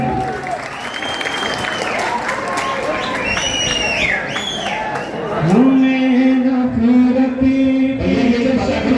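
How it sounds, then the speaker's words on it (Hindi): An audience at a mushaira in Deoband claps loudly and steadily throughout, with crowd murmur, while a voice speaks over the applause and grows more prominent near the end. "ताली बजा कर इजाजत दे आप लोग"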